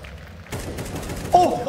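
A single sharp gunshot from a jump shot in Counter-Strike cracks out abruptly after a quiet lead-in, followed by a short burst of game noise under an excited voice.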